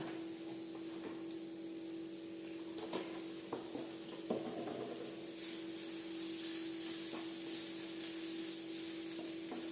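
Egg puff filling being stirred and fried in a pan without coconut oil, giving a steady soft sizzle with occasional scraping and stirring knocks, close and moderately quiet, no talking.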